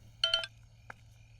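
A phone rings in a dubbed Hindi romance film, giving a short burst of bright electronic tones and then a fainter single chirp over a low steady hum.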